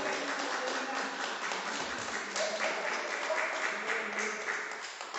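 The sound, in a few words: congregation applauding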